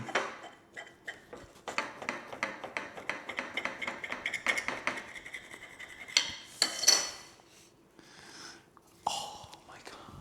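A knife saws through a freshly baked pan brioche loaf in a series of quick, close scraping strokes against crust and pan. Louder crackling cuts follow near the end, with soft voice sounds mixed in.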